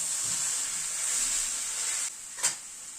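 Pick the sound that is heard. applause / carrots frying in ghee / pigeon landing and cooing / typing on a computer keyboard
carrots frying in ghee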